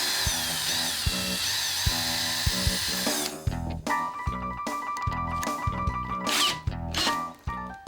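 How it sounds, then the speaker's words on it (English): A power drill bores pilot holes in a wooden frame, whirring in short bursts, its motor pitch rising and falling, with clunks and knocks between runs; no talking. "Next, drill pilot holes."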